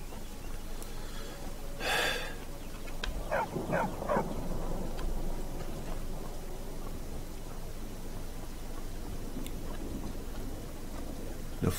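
Barbas, the dog in the game Skyrim, gives a single sharp bark, followed by a few soft snorts and whimpering sounds, set against a quiet, hissy game ambience.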